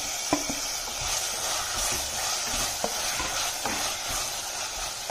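Chopped tomato sautéing in hot oil for mealmaker (soy chunk) biryani, with a steady close sizzle and intermittent soft scrapes and taps of a spatula stirring the pan.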